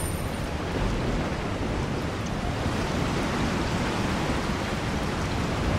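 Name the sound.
rain in video game Resident Evil 4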